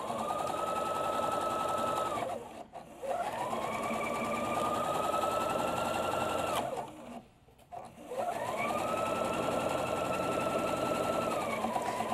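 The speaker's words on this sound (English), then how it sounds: "You always sew from the open end to the closed end, to the point." A sewing machine stitches a dart in jacket fabric, three sustained runs of steady whirring separated by short pauses, close and fairly loud with no voices.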